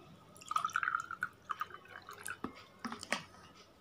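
Salt is stirred into water in a glass, giving soft wet dripping and clinking sounds, small splashes and light taps against the glass in an irregular rhythm, close and quiet with no talk.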